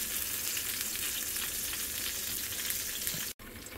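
Arepas fry steadily in a pan with a constant, dense sizzle that crackles throughout and cuts out abruptly near the end before resuming.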